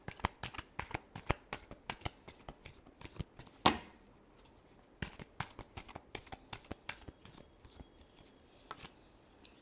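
Tarot cards being shuffled by hand, a rapid series of crisp riffling bursts and soft slaps at close range, with one sharper snap partway through and no speech.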